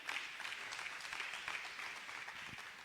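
A church congregation applauds and cheers their pastor father during a service, a soft, steady wash of clapping that sounds distant throughout.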